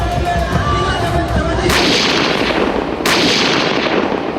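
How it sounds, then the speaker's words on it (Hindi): Cannons fire a 21-gun salute at a royal throne ceremony, with two loud, sharp booms a second and a half apart, each trailing a rumbling decay over steady crowd-like background noise. "इक्कीस तोपों की सलामी दी"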